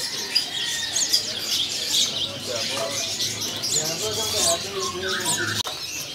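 Caged songbirds at a busy bird-selling kiosk fill the air with dense, overlapping chirps and tweets, joined by some lower cooing and a brief flutter, continuous and fairly loud throughout.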